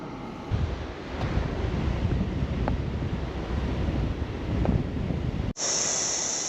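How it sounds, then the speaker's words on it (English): Heavy surf roars on the ocean beach of Moreton Island, a constant broad wash of breaking waves with wind buffeting the microphone, ending in a sudden cut to a brief high hiss. "The surf is still roaring out there."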